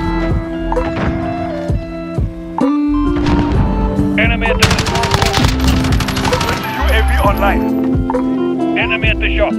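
Video game firefight with rapid machine gun bursts and scattered gunshots, loud and close, mixed with in-game voice callouts and other battle noise.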